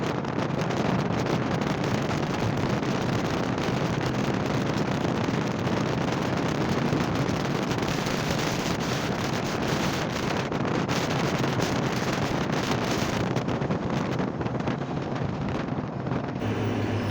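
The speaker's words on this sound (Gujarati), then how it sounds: "ઠંડો ઠંડો પવન છે" Constant wind rushing and buffeting against the microphone, a loud, unbroken roar that holds steady throughout.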